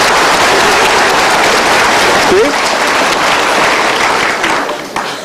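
An audience at a talk show applauds, loud dense clapping that fills the whole stretch and fades slightly at the end, with a brief spoken word over it.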